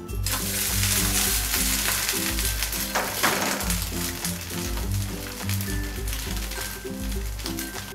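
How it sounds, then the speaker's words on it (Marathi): Sabudana thalipeeth sizzles in ghee on a griddle, a loud, dense, continuous frying crackle close up with light stirring and scraping sounds underneath. "आता आपण तव्यावरती थालीपीठ घालून घेऊया।"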